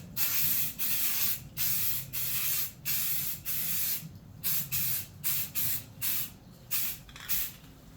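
Spray paint hisses from an aerosol can in repeated short bursts, about a dozen sweeping passes separated by brief pauses, as an AR-10 rifle is painted close by.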